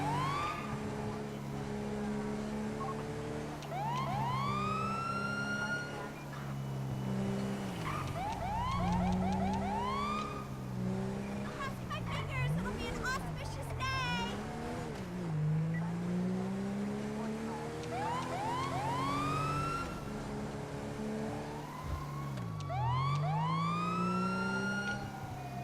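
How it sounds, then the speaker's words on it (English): Police car siren from Grand Theft Auto V, wailing continuously in rising and falling sweeps over steady vehicle engine noise, with a brief yelping burst partway through, loud and close throughout. "siren real quick just to get our way through"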